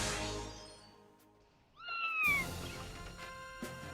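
A cat in the King's Quest III Remake video game lets out a single clear, drawn-out meow at close range, set against a soft game background with no talking.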